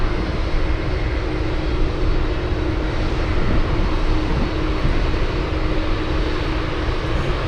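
A jet roars steadily down the runway on takeoff at Anchorage airport, a loud, unbroken broadband engine rush with no voices.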